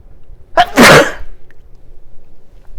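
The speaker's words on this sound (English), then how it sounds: "Excuse me, I'm going to have to sneeze." A single loud sneeze bursts out in a quiet room, a sharp intake followed by a strong broad explosive release, with only faint background hum afterward.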